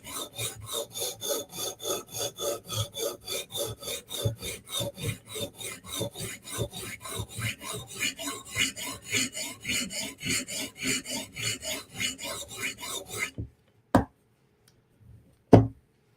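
A Steel Will flipper or RMJ fixed-blade knife is stroked over a sharpening stone in a fast, even rasping rhythm, close and loud for about thirteen seconds, then two isolated scrapes after a silence.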